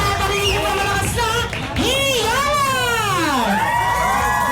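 Birthday party guests yelling and cheering loudly indoors in a dense, sustained crowd roar, with children's high-pitched shouts and whoops rising and falling close by.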